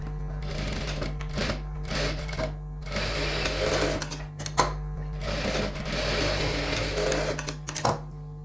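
A sewing machine stitches a chudidhar top in several rapid bursts of close mechanical clatter, separated by short pauses, over a steady low motor hum.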